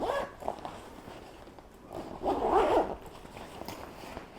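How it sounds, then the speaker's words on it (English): A travel backpack's zipper is drawn shut, with one louder zipping pull in the middle of a quiet stretch that also holds light handling rustles. "So let's zip this up."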